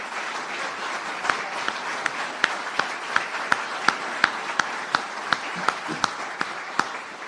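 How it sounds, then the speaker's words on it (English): An audience at a Hardee County news conference held by DeSantis applauds FFA members: steady dense clapping from a crowd with a few louder, sharper claps standing out near the microphone throughout. "Let's give them a round of applause."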